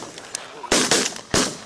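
Loud, close shotgun blasts ring out while duck hunting in an open field: two or three heavy reports in quick succession with brief ringing tails.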